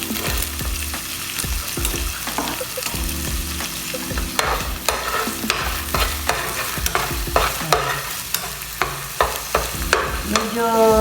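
Onion and garlic sauté in oil for pork adobo, a steady close sizzle broken by frequent clacking, scraping stirs of a utensil against the pan that grow sharper toward the end; no talking.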